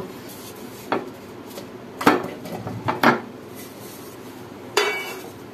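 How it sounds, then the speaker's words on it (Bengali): Coconut milk pudding is turned out onto a plate, with a few sharp clinks and knocks of dish and utensil against the plate, spaced apart over a quiet room background, close by with no talk. "এবার একটি প্লেটে পুডিং ঢেলে নিব।"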